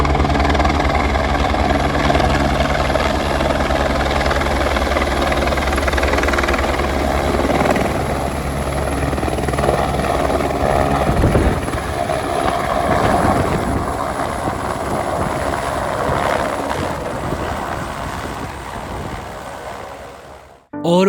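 A helicopter sits at the Kedarnath helipad, its rotor and engine roaring loud and close in a steady, throbbing drone that carries on at full strength and cuts off abruptly at the very end.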